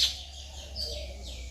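Birds calling on a foggy morning in a rural village, with a few thin, high chirps standing out now and then over a steady low background hum, no talk.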